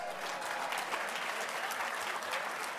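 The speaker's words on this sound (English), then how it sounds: "Let's give that a round of applause." Steady applause rises from diners at a Border Patrol Foundation charity auction dinner after a winning bid, an even wash of clapping lasting a few seconds at moderate volume.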